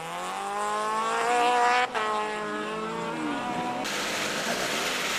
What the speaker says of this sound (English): Very distinctive, you could hear this one from the anti-lag.